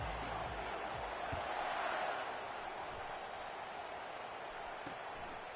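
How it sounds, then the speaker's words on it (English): A stadium crowd in a football video game roars as a steady, dense wash of cheering that holds loud and even throughout, with faint thuds now and then and no clear talk. "The crowd is freaking massive, isn't it?"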